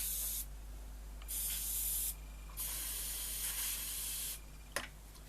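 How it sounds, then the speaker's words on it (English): Aerosol cleaner sprayed in several long hissing bursts over an old wartime civilian radio receiver, four sustained sprays with brief pauses, close and steady, followed by a short click. "So first thing I'll do is spray the whole thing down."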